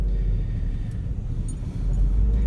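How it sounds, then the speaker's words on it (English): A 2003 Honda Insight with a five-speed manual, its engine restarting after auto stop and settling into a low, steady idle rumble heard from inside the cabin. "Put it in gear, the car turns back on."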